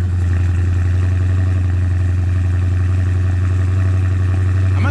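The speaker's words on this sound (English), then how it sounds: "Gosh, that's loud. That's stock exhaust," A Dodge Charger Scat Pack on its stock exhaust runs at a steady idle close by. The low, droning burble stays loud and constant with a slight clatter and no voices.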